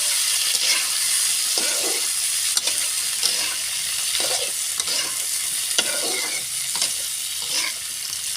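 Pointed gourd (potol) pieces fry in oil in a pan, a constant close sizzle with a spatula stirring and scraping them in a repeated rhythm of soft knocks.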